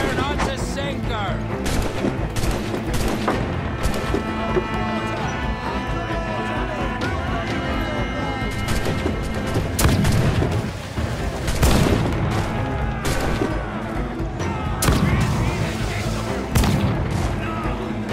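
Ship cannons boom in repeated broadside volleys during a naval battle in the game Assassin's Creed IV Black Flag, dense and loud throughout with crashing impacts, music and voices mixed in.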